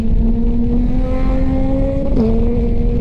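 A QJ Motor motorcycle engine runs steadily and loud at close range, its tone holding even before a brief dip and recovery near the end, with no voices.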